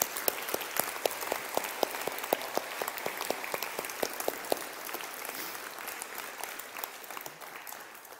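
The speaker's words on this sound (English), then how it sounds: "Give Terry a round of applause." An audience applauds at a talk, a dense patter of many hands clapping with sharp individual claps standing out, loud at first and gradually thinning toward the end.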